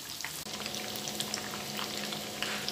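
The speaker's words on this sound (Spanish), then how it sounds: "Ya terminamos casi de freír las alitas" Chicken wings fry in hot oil, giving a steady, dense sizzle and crackle with scattered small pops, close and continuous throughout.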